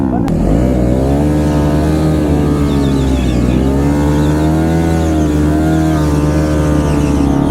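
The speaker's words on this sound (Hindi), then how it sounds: "टायर खप जा रहा है, टायर खप जा रहा है। बर्नआउट मारना, बर्नआउट।" Motorcycle burnout at an independent biker meet-up in Dhanbad, Jharkhand: a loud, sustained engine roar with shifting revs and tyre squeal, steady and close for several seconds.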